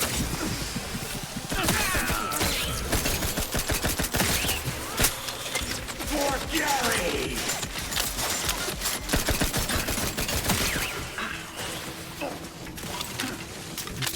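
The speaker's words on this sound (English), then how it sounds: "the turrets are melting me right now." Turrets firing in The Outer Worlds 2: dense rapid bursts of automatic gunfire and mechanical clatter continue nonstop, mixed with other game sounds and occasional speech.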